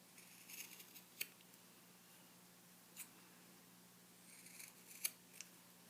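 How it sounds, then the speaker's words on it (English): Scissors snip the fabric corners of a handmade slimline wallet in a few faint, sparse, sharp clicks spaced apart over a quiet background hum. "So just clip along there, making sure you don't cut into the stitching."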